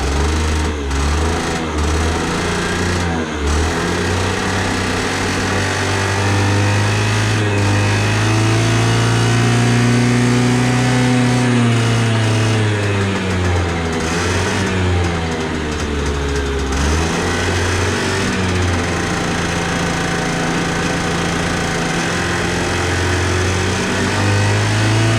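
A mystery scooter's small engine runs steadily after being started, its pitch rising and falling through a few revs before settling into a steady idle, loud and close with no talking.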